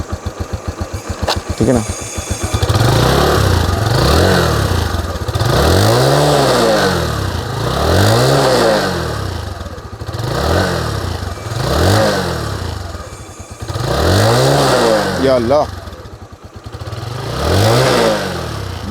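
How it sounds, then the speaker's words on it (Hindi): A Suzuki GSX125 motorcycle engine idles and is revved repeatedly in loud, rising-and-falling bursts, close by, with someone talking over and between the revs. "आइडलिंग की, हाँ ये आइडलिंग की साउंड है"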